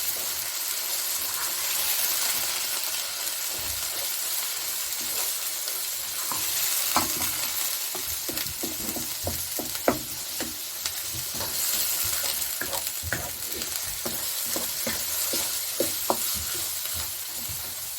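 Minced meat fries with onions in a pan, a constant hissing sizzle broken by repeated scraping and clacking as it is stirred, close and even throughout.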